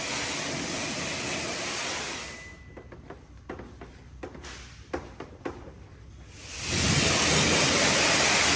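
Water spraying onto a car to wash off a white paint mark, a loud hiss that cuts out midway for a few seconds of quieter clicks and drips, then returns at full force.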